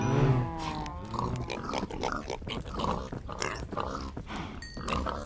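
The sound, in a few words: pigs oinking in Minecraft video game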